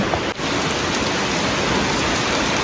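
Dense, steady rain pours down in an even, loud hiss, with a brief dip in the noise early on.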